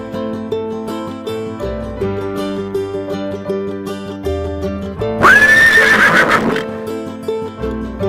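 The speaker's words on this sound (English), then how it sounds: "Horse." A horse whinnies loudly with a rising, wavering call near the middle, set against cheerful children's music playing throughout.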